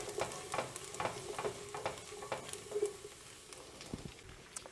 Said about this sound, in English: I'm going to get that all in there and give it a big stir to incorporate everything